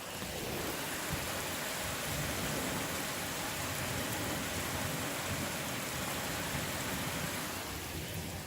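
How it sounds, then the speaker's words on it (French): Heavy rain pours down during a moderate thunderstorm in Le Mans, a dense, constant hiss of drops on surfaces that stays level and loud throughout with no voices. "Mais la pluie, je vous la montrerai après, c'est pareil, c'est énorme."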